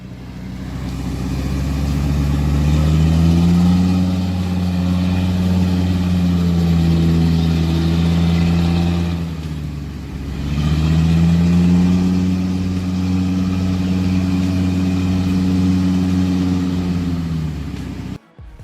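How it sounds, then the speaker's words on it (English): An off-road truck engine labors through mud with a loud, continuous drone that swells and sags as it works, dips briefly midway, then surges again before cutting off. "The engine roared, the cart steadily moved forward."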